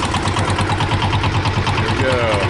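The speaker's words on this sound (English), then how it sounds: "Oh, the engine started." An engine starts and runs steadily on a midday drive in Indonesia, a loud continuous mechanical rumble filling the whole stretch with no pause.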